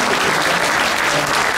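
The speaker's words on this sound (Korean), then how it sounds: "이런 건 박수를 한번 쳐주셔야 됩니다." Loud, dense applause from a large audience of pastors at a national prayer rally in Busan, a steady wash of clapping held at an even level through the whole short stretch.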